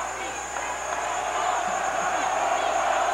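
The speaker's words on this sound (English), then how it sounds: "Dickinson, crowd getting on him too." A crowd at a 1989-90 Rutgers vs. Seton Hall college basketball game jeers a player, a steady, dense roar of many voices that holds throughout at a moderate distance.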